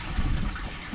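Water churns and gushes steadily from a koi pond pump, a close, continuous splashing flow with no speech.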